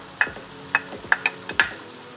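A spoon clinks and scrapes as red sauce and a creamy four-cheese sauce are stirred together while zucchini cooks nearby, with five or six sharp, close taps spaced irregularly over a soft background hiss.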